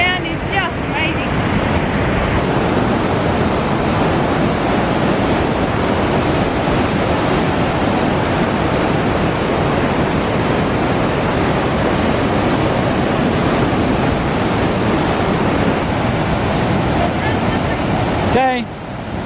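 Floodwater after wet-season storms rushes in a loud, unbroken roar that holds steady throughout, with wind buffeting the microphone and a voice talking briefly near the start and again at the very end.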